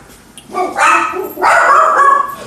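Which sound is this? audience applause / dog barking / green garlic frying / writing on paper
dog barking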